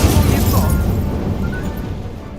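A fire spell cast in the Hogwarts Legacy video game gives a loud, roaring whoosh of flame that swells at the start and then slowly fades, steady and close, with no talk over it.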